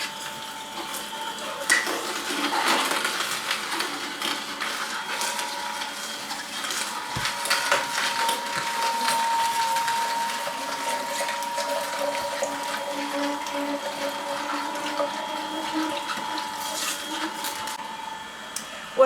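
A vegetable juice extractor presses cabbage, carrots and beets with a steady mechanical whir, crunching and grinding, and moist squelching, close and moderately loud, while someone talks intermittently.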